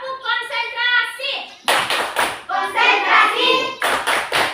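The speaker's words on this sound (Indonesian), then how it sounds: "Tepuk konsentrasi." A primary school class plays the concentration clapping game: a teacher's voice leads, then children clap in quick, loud, rhythmic bursts mixed with their chanting voices.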